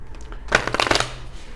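A quick riffle of playing cards being shuffled, a short crisp flutter of overlapping snaps up close, no voices.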